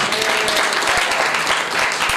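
An audience at a church sermon breaks into loud, dense applause, many hands clapping together in a steady roar that fills the whole moment, close and sustained with no clear talk over it.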